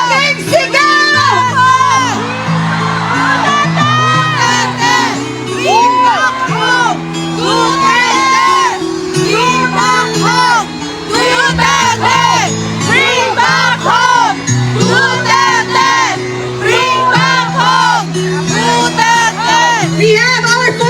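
A large crowd at an outdoor peace rally in Davao City roars in a long, loud sustained shout with cheering and whoops, dense voices filling the whole stretch without a break.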